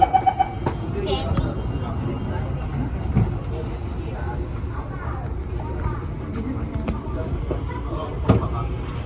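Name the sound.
SMRT CT251 metro train doors closing and departing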